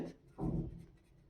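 A maths condition for a pair of linear equations is written out by hand, giving a brief soft scratching stroke, quiet and close with no speech.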